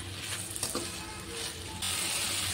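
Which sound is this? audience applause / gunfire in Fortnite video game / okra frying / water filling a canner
okra frying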